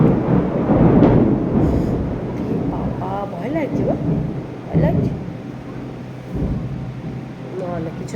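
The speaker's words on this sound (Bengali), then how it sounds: "আমাদের এখানে বৃষ্টিটা চলে এসছে আর এদিকে বাবাই ভীষণ পরিমাণে ভয় পাচ্ছে তার কারণ আজকে মেঘ ডাকছে প্রচুর" Deep thunder rolls through steady rain, a heavy low rumble strongest at first and then easing, with people talking over it.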